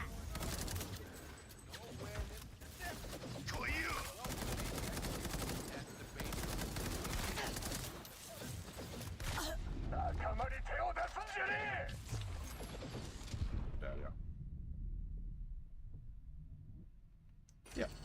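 Cyberpunk gunplay delivers bursts of rapid automatic gunfire with dense crackling shots over game noise, a voice talking over parts of it, then a sudden drop to near silence near the end.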